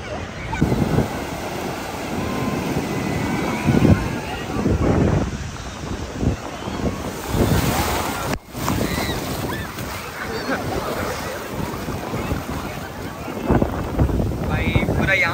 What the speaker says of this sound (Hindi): लहर बहुत ज़्यादा ही ऊपर आ रहा है कि हवा बहुत तेज़ है इसीलिए